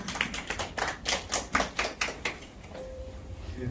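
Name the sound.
audience applause welcoming a speaker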